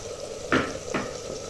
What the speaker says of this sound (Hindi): तो अब इसको अच्छी तरह भूनेंगे